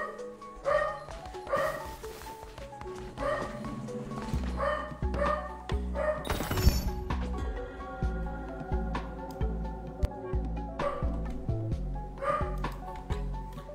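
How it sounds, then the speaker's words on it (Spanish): A dog barks repeatedly in short bursts over steady, tonal video-game music during a Cult of the Lamb live stream, fairly close and moderately loud. "Mi perro se altera"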